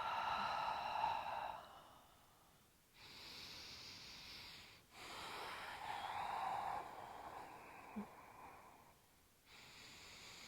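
Slow, audible breaths during a gentle yoga flow, long airy inhales and exhales alternating in a steady rhythm, close to the listener with soft background hiss.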